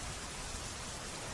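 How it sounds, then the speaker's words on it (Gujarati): Heavy downpour pounding the roads of the Khambha Gir area of Amreli, Gujarat, with runoff flowing in the streets, a thick, uniform roar of rain close by and unbroken. "ખાંભા ગીર પંથકમાં ધોધમાર વરસાદ વરસ્યો છે"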